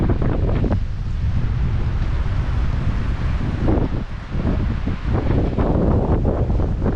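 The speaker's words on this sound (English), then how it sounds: "Ooh, there's the wind" Strong wind buffets the microphone in the Teton mountains near Death Canyon, a loud, continuous low roar with gusty surges and no break.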